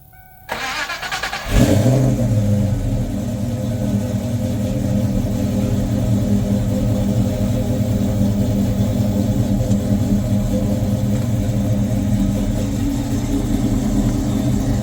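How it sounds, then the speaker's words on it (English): A supercharged 1995 Ford Mustang GT V8 cranks briefly and fires on a cold start, then settles into a loud, steady, lumpy idle close by that holds for the rest of the clip, with no voices over it. "Cold start."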